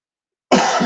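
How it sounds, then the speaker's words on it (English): One sharp, close cough bursts out after half a second of silence and carries through to the end, loud and alone. "I'm coughing."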